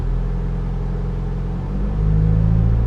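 A 2007 Volkswagen Eos 2.0 TDI diesel idles while parked, then the revs rise into a deeper, fuller drone, a steady close engine rumble with no voices.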